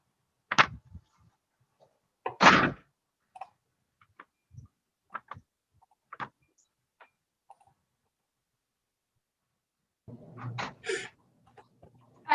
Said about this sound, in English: And then slam the door.